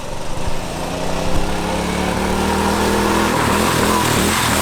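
A Corvette engine fitted to a five-speed go-kart revs hard and close, its dense, rising roar climbing through the gears with a steady, sustained drone and no talk over it.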